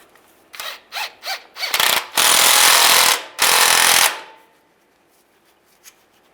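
Bolts being tightened on a 2007-2013 Chevrolet Silverado transfer case: a few quick ratchet-like bursts, then two long, loud rattling runs of a power impact tool, close up, with no speech.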